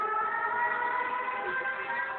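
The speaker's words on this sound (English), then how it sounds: "When the air raid siren sounds, it's gas masks on and head to the safety of the basement." An air raid siren wails on a steady, sustained tone during a wartime evacuation re-enactment at a primary school. It holds even and loud with no pause for the whole stretch.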